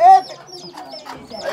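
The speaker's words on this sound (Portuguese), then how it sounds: "Ó, um galeto." A young chicken clucks and chirps nearby in short bursts among other fowl, with people talking around it.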